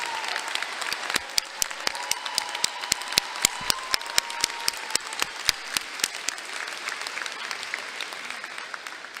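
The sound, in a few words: audience applause at commencement ceremony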